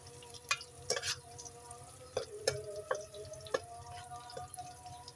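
Onions frying in a pan for pulao, stirred slowly with scattered light scrapes and taps over a soft continuous sizzle, close and fairly quiet.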